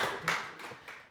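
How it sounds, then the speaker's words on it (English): A few scattered hand claps from a small audience at a book party, brief and soft, with several distinct slaps spaced irregularly over about a second. "Can we have a round of applause for my wife, Pam?"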